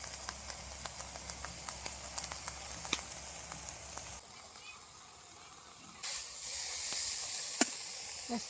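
Saratya, a wild leafy vegetable, sautés in a pan with a faint hiss and scattered crackling pops. The sizzle grows steadier and brighter toward the end.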